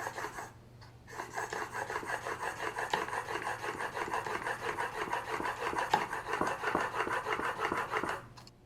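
A Lie-Nielsen block plane blade is honed in steady back-and-forth strokes with firm pressure on one corner, a close, continuous rhythmic rasping scrape that runs for several seconds without talk.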